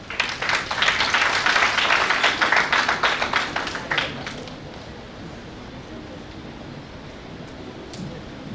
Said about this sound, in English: Sir, with huge round of applause.